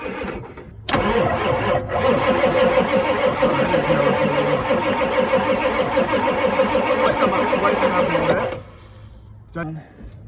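A diesel engine left unused for 11 years cranks and fires into a loud, rough, clattering idle close by, running for several seconds before dropping away abruptly, with a voice briefly heard near the end.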